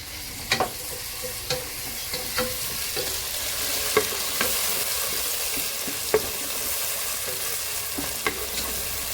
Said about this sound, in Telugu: ఉల్లిపాయలు ఎర్రగా ఏగినాయి కదండి ఇప్పుడు ఇందులో మనం టమాటా వేసుకుందాం అండి